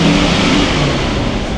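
A Triumph TR7 engine revs hard under full acceleration, giving a loud, steady, close roar that holds without a break.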